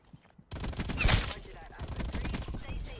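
Automatic gunfire crackles in Call of Duty Black Ops Cold War, a dense burst of rapid shots with a loud peak near the middle, mixed with game clatter and a voice talking over it.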